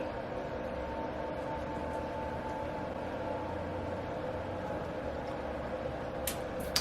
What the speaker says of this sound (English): So we dug out the Nespresso.